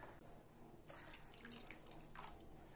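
Water poured into a pan of butter beans gravy to loosen it, a soft trickling splash with a few brighter drips, quiet and close with faint kitchen background.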